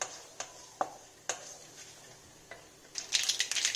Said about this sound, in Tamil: நல்லா பொரிஞ்சிருச்சுங்க கடுகு.